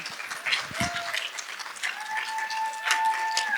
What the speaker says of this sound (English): So let's give Dani a round of applause